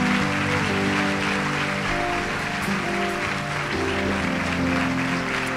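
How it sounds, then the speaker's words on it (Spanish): Church congregation at a leaders' conference applauds, a continuous dense patter of clapping layered over sustained organ or keyboard chords and music, fairly loud throughout. "Dale un fuerte aplauso a Dios."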